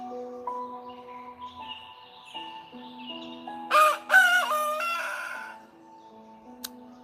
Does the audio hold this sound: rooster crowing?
yes